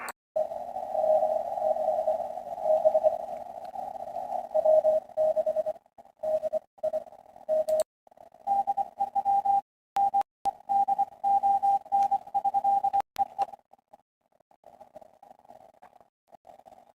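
Amateur radio reception of a Parks on the Air station on shortwave, a steady whistling tone keyed on and off in uneven bursts with static crackles, fading and dropping out toward the end.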